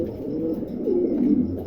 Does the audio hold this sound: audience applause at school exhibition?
no